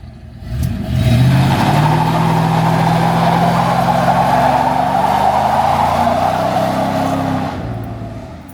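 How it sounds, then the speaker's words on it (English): Car doing a burnout, a loud sustained engine roar with tire noise held steady for about six seconds before dropping off, close and dominant with no voices. "it's a magnum burnout"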